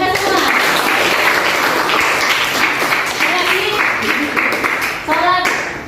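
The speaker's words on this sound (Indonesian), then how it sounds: "Tepuk tangan buat kita semua." A classroom of students claps together during an Islamic prayer lesson, loud and close, a dense burst of clapping with children's voices cheering and calling over it.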